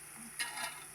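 Onions hiss quietly as they fry in a pan until golden, with a brief scrape of stirring partway through.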